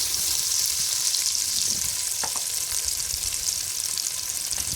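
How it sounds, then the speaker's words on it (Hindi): Onions sauté in a pan for a Double Onion Bhindi Gosht, making a constant close sizzle with a few light stirring clicks. "प्याज हल्का सा सौते हो जाए"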